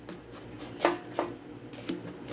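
A few separate clacks and clinks of a spatula on an air fryer basket holding chili cheese chimichangas, sparse, close and fairly quiet in a kitchen.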